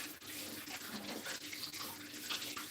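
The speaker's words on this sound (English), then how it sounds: "First, you give this a little wash. Give the leaf of life a wash." Leaf of life herb leaves rinsed under a running tap, a steady close splashing and trickling of water that continues throughout without speech.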